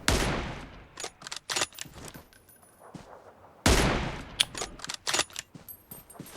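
Bursts of rapid gunfire in the video game PUBG Mobile crack repeatedly, loud and close, with brief pauses between volleys and scattered single shots.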